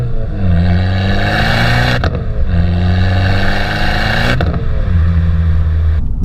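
Modified Fiat 500 Abarth revving hard through the gears, loud close engine note climbing in three pulls with abrupt breaks at each shift, crackles and pops between, no talking.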